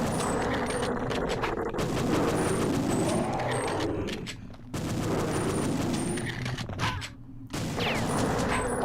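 Sustained gunfire in Perfect Dark on Xbox Series X, long rapid bursts of shots broken by short pauses, loud and close, with the last burst starting after a brief gap.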